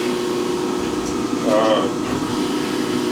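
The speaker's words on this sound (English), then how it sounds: "this machine is still running good, but it does have some age on it." An aging grinding-shop machine runs with a steady, loud mechanical hum and drone, a brief rise in the middle, while someone talks over it.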